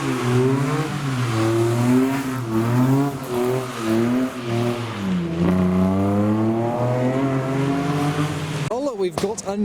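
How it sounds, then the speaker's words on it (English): Engine of a Ford Fiesta revving at a car show, loud and close, climbing and falling in repeated sweeps with a squealing edge, ending in a short rough burst. "There's some kind of Fiesta revving maybe"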